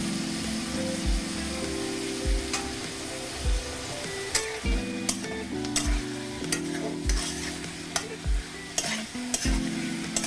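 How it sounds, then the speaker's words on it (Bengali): A spice paste for Bengali-style puti fish curry fries in a pan with a splash of water, giving a steady sizzle under repeated stirring and scraping strokes, with soft background music throughout. "এবার আমি খুব ভালো করে কষিয়ে নেব।"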